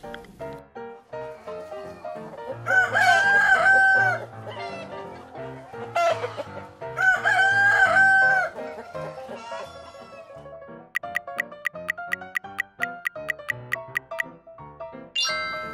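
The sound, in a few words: rooster crowing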